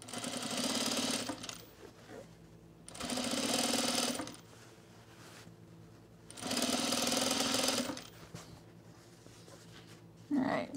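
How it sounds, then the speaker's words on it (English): A serger stitches the seam of a men's utility jacket in three loud, buzzing bursts of about two seconds each, separated by quieter pauses with soft handling noise. "and then I'm going to take it to the serger"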